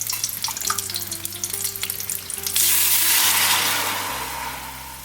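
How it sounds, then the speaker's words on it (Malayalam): Water poured from a glass into a hot pot for Kerala-style fish biryani, a loud sizzling rush that builds and then slowly fades, alone without talk. "3 ഗ്ലാസ് അരിക്ക് 6 ഗ്ലാസ് വെള്ളമാണ് ഞാൻ ഒഴിച്ചു കൊടുക്കുന്നത്"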